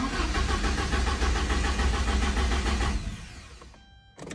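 A Porsche 944 with a no-start fault cranks steadily for about three seconds, the starter churning in a fast, even rhythm before winding down and stopping without the engine catching, followed by a brief click.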